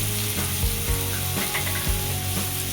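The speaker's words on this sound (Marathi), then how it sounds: "चवीप्रमाणे मीठ टाकायचं आहे. आपण याला परतून घेणार आहोत." Bottle gourd pieces being sautéed with salt in a pan for a Marathi-style dudhi bhaji, giving a steady close sizzle with a few clinks and scrapes of stirring, no voices.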